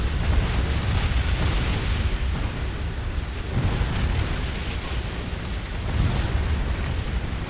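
Dense, continuous rumble of weapon barrages in the Distant Worlds Universe space strategy game, steady and fairly loud throughout, with overlapping bursts and no clear gaps or voices.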